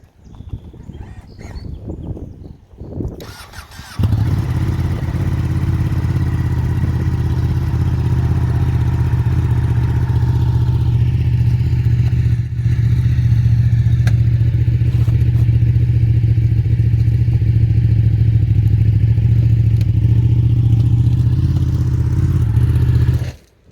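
A motorcycle engine idles steadily, loud and close, with a deep continuous rumble that holds for about twenty seconds after some brief handling noises at the start.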